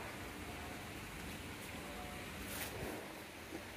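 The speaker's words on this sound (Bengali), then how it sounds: "এই দেখো আবার বৃষ্টি শুরু হলো আবার শুরু হলো সারা দিন বৃষ্টি" Steady rain falls in a soft, even hiss, with a brief louder patter midway and no clear voices.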